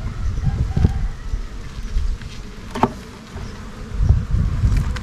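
Honeybee swarm being captured during a queen-rearing project, a continuous low buzzing hum close by, with scattered light taps and rustles.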